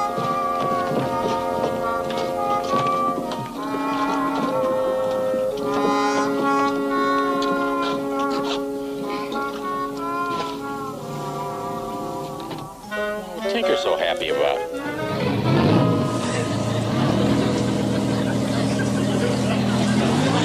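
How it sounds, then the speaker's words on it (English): Engines of a PT boat start and run in a 1960s TV comedy, a rising motor roar that swells late after tonal music and brief talk, loud and continuous. "Start the engine."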